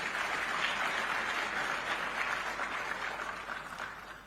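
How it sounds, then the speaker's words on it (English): An audience claps steadily for the newly introduced chairman of the Zambia Association of Manufacturers at a private sector day event, a dense, sustained applause that fades slightly toward the end. "May we clap for him a bit more?"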